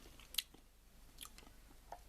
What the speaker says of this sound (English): I shouldn't have done that because you're going to hear me crunching.